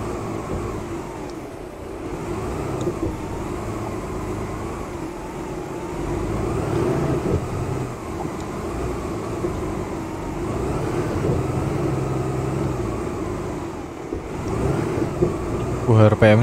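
Heavy coal truck with a Euro 4 engine climbing a rough mine road in a convoy near Medan, its engine droning and revving steadily for the whole stretch, loud and close, with people talking in the cab over it.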